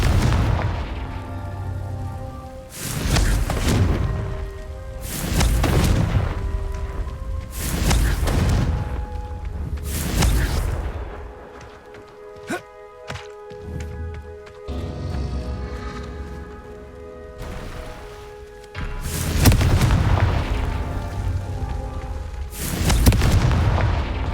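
Confringo fire-spell explosions in the video game Hogwarts Legacy: a rhythmic series of loud, heavy booms roughly every two to three seconds, broken by a brief stretch of layered ringing effects before the blasts resume.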